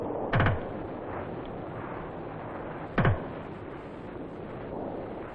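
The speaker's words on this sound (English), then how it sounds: "The 40mm M2O3 Grenade launcher provides additional firepower to the rifle section." A 40mm M203 grenade launcher fires twice, about two and a half seconds apart. Each shot is a sharp, punchy report standing out over a steady outdoor wind-like rumble.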